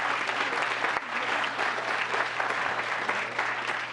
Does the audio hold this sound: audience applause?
yes